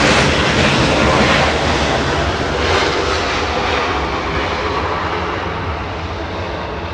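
An American Airlines Airbus A321 jet arrives at Los Angeles International Airport, its engines giving a loud, sustained roar that slowly fades over several seconds, with no voices.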